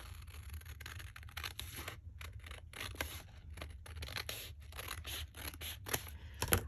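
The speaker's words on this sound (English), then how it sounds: "I'm okay with just taking my scissors and doing." Scissors snipping through a paper envelope during a card-wallet craft project, a close series of quick crisp cuts and rustles with short pauses between them.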